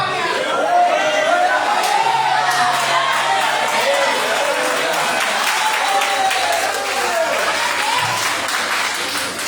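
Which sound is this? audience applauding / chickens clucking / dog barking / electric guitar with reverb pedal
audience applauding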